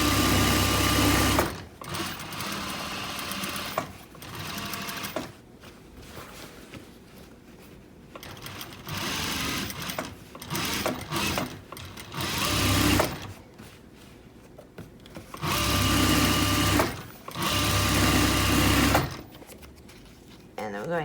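A sewing machine stitches a pouf ottoman cover in bursts of steady whirring, pausing between runs as the seam rounds a corner and is reinforced by going around again. Some quieter handling noise fills the gaps.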